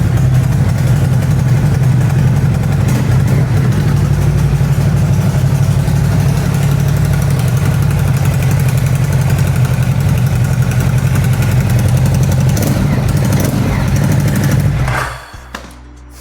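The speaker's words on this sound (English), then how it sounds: "So let's see how this bike sounds." Ducati motorcycle engine idles loud and close with a deep, grunty, uneven throb held steady for about fifteen seconds, then cuts off abruptly, with no one talking.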